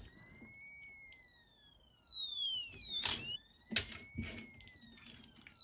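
A Matchbox Light & Sound (Lasertronic) toy police car, a Chevy Caprice, sounds its electronic siren: high wailing tones that rise and fall repeatedly, close and steady, with a few sharp clicks and knocks of handling partway through.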